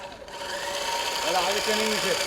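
A sewing machine runs continuously, close and steady, while sewing heavy double stitching, with people talking over the motor's hum.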